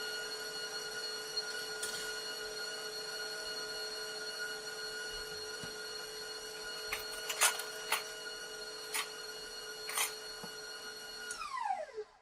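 Stand mixer with a whisk attachment whipping vanilla buttercream frosting, a steady mechanical whir with a constant tonal hum throughout and a few faint clicks, winding down at the end.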